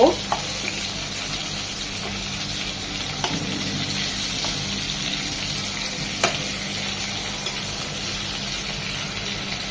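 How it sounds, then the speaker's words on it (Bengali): Prawns fry in a pan for garlic butter prawns, giving a continuous close sizzle with occasional sharp pops and clicks of the pan. "ওই পাশটা এক মিনিট ভেজে নেবো"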